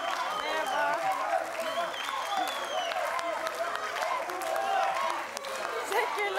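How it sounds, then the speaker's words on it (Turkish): A studio audience at a Turkish game show claps and cheers steadily for a contestant, dense continuous applause with scattered whoops throughout. "Arkadaşlar ne oluyor bu tezahüratı?"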